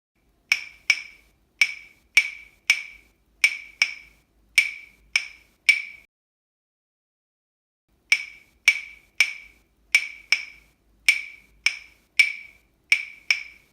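A 2-3 salsa clave rhythm sounds as sharp, dry wooden clicks, groups of two then three strokes repeating, a pause midway, then the pattern resumes, played alone and clearly.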